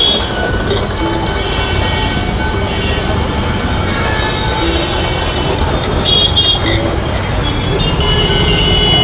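A Kolkata tram runs along a city street, a steady rumbling rattle of wheels on rails mixed with traffic noise, loud and continuous throughout, with people talking over it.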